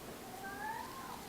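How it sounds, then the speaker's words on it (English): A house cat gives a single short, faint meow, rising then falling, heard indoors against a quiet background. "If you hear, it's my cat again"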